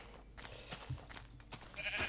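Sheep bleating in Minecraft, a few short faint bleats scattered across a quiet stretch of game ambience, with no talk.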